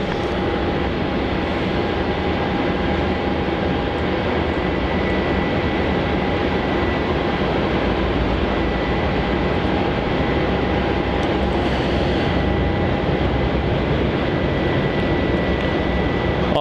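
Airliner approaching to land on runway 16 at Melbourne Airport, Australia, a steady broad engine roar that holds loud and continuous throughout with no talk.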